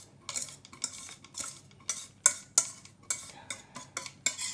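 Utensil stirring a chocolate cake mixture in a bowl, a series of sharp scraping and clinking strokes against the dish at an uneven rhythm, close and with no talk.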